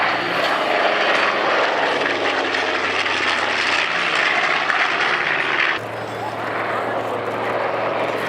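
A propeller bomber makes a low pass at an airshow with its bomb bay doors open, producing a loud, continuous, close engine roar that shifts slightly in tone as it passes.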